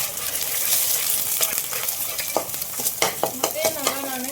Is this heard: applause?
no